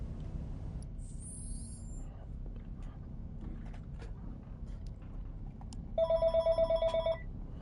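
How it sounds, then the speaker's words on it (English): A telephone rings in Final Fantasy 7 Remake, a bright trilling ring bursting out near the end over a low background of game music and rumble, with a faint electronic chime earlier. "Got a phone call."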